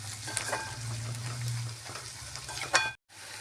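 Garlic cloves and ginger pieces frying in oil, a soft steady sizzle with a few clinks of a spoon, close and quiet, cutting out abruptly near the end.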